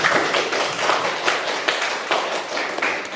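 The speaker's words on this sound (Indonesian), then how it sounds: "Kita tepuk tangan untuk kita semua" A classroom of students claps hands together in a short burst of uneven, fairly close claps with a few distinct sharp smacks standing out.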